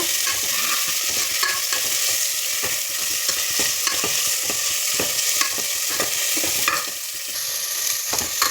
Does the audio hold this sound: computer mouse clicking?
no